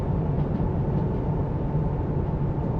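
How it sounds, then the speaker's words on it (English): A twelve-car train rolls along in the Derail Valley simulator, a steady low rumble of wheels and engine that drones on without a break, with no talk over it. "Okay, so I should probably slow this train down now."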